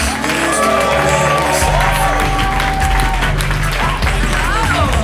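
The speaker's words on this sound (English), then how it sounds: "So don't stop clapping, keep clapping. Make a lot of noise" A studio comedy-show audience claps and cheers loudly for comedian Laura Sanders: dense, sustained applause with shouts, and music plays underneath throughout.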